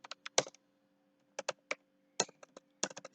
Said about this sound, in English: So I am typing here a list of string.